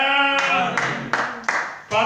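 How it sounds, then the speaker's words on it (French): A church congregation claps together during worship, a few hard, sharp bursts of hand claps spaced apart, each cutting over sung or spoken voices that run throughout. "nous applaudissons le Seigneur"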